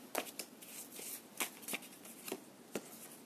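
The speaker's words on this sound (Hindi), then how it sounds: "let me take one more card" Tarot cards handled and drawn from a deck, close and quiet, with a quick run of crisp card flicks and riffling snaps.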